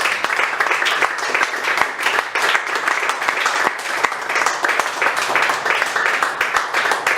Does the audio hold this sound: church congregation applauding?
yes